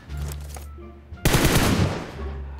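Rapid bursts of automatic gunfire in the mobile battle-royale game PUBG Mobile, a short volley followed by a louder, dense burst of shots, close and sharp with no talk.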